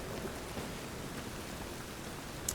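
Rain falls steadily in The Witcher 3 video game, a faint, even hiss of drops with no other sounds over it.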